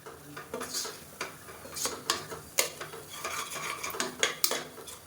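Repeated metal scraping and clinking as chicken gravy is stirred in a pan, brisk irregular strokes close by.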